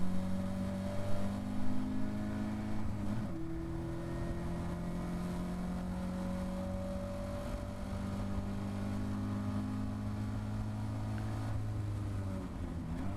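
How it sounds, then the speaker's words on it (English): A Caterham race car engine screams at high, sustained revs during a 40-car Caterham Academy Autumn Trophy race, near and loud from onboard, with steady droning tones that dip and shift around two gear changes, no voices. "heading up towards Coppice again, the engine bouncing off the rev limiter"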